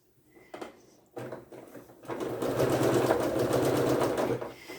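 A sewing machine stitches a quilt centerpiece, opening with a few short stops and starts before settling into a steady, fairly loud mechanical whir that runs continuously to the end.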